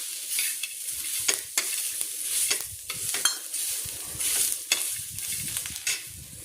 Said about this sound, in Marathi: कांदा जो आहे तो काळा नाही बनवायचा, असा लाल झाला की असा लाल होईल एवढाच भाजायचा आहे